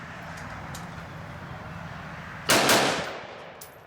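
An AR-15 rifle fires at the end of a magazine: a sharp, close shot bursts out suddenly after a low steady background and rings briefly before fading.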